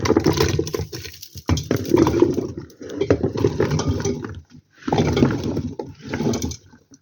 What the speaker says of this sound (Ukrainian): Я всипаю сюди перчик.